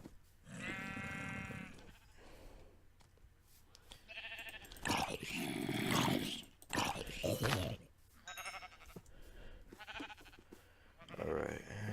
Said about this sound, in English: sheep look so weird when you use shears on them.